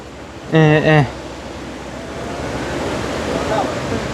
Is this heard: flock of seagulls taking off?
no